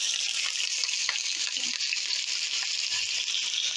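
Onions tossed into hot oil and melted butter set off a loud, steady sizzle, a dense hissing fry close up that holds without pause.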